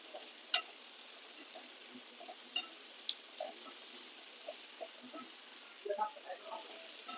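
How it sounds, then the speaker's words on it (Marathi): Bitter gourd slices sauté in oil in a pan with a faint, steady sizzle and a few soft stirring clicks and taps spread across the stretch. "आता कारला आपण तेलावर एक पाच मिनिटं जराशी छान असं परतून घेऊया"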